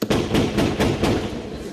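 A quiz show contestant's buzzer plays a loud, explosive sound effect: a string of about five sharp, crackling blasts at an even pace, one close after another, with no pause between them.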